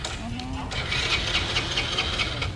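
A rented motorbike's cold engine turns over and settles into a steady mid-pitched idle, close and continuous, with a brief tonal whine at the start.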